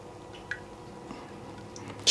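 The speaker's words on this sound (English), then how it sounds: "Still dripping, but not very fast at all." A few slow, faint drips fall at long, uneven intervals from a clogged Berkey water filter in a quiet space, then a louder rustling noise comes at the very end.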